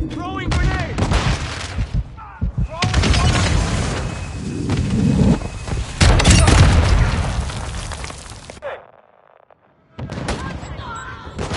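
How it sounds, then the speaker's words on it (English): Call of Duty multiplayer combat with a grenade blast and bursts of gunfire, loud and dense booms and rattling shots layered with voices, dropping briefly to near silence before firing resumes. "Throwing grenade!"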